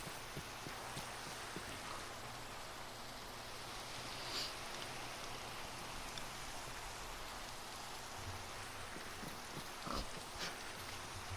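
A steady Minecraft rainstorm at night hisses evenly throughout, soft and distant, with faint occasional clicks and a brief pig grunt in the background.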